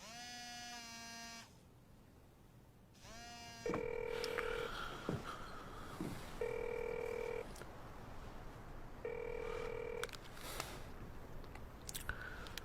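A phone rings unanswered in a drama scene, three repeated electronic ring bursts with short pauses between them, loud and near over quiet room sound.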